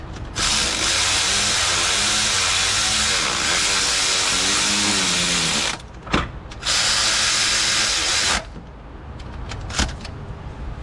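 A power tool whirs loudly and close as it runs bolts into a Nissan Altima during A/C compressor work, in one long run and then a shorter second burst, followed by a few clicks and quiet.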